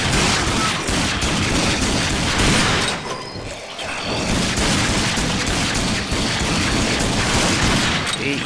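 Rapid gunfire and booming impacts rattle loudly and almost continuously in the shooter RAGE, a dense firefight with a brief lull midway, no talk over it.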